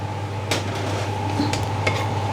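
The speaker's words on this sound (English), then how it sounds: "And then you roast the dry shrimp" Dried shrimp roasting in a pan in a Thai kitchen while a Miang Kham sauce is made, with a steady low sizzle, light scraping and a few sharp clinks of a utensil against the pan.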